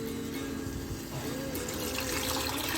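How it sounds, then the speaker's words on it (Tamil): Tamarind juice pours steadily into a pot of pomfret fish curry with peanuts and oregano, a continuous close liquid rush that holds at an even level the whole time. "அது கூட இந்த புளிசாறு ஆட் பண்ணுங்க."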